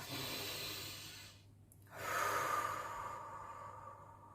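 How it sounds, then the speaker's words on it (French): A deep breath taken close to the mic, a long airy exhale, a brief pause, then a strong inhale that slowly tapers off, with no speech. "On va prendre une grande inspiration ensemble."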